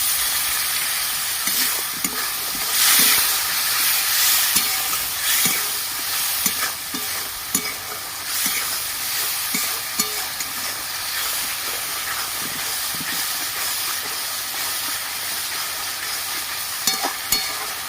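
A little water poured into a sizzling pan while cooking egg pulao, bursting into a loud steady hiss of steam and frying with scattered spatula clinks and scrapes, close by and with no voices.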